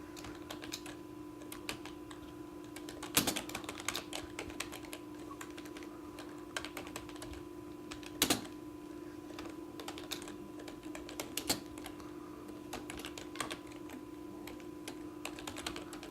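Keystrokes on a computer keyboard tap out text in scattered bursts, with a few sharper clacks standing out over a steady low electrical hum and no voices.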